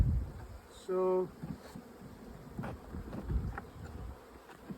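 Honey bees buzzing around an underpopulated summer split hive, a faint continuous drone with wing hums passing close by, and a voice talking briefly near the start.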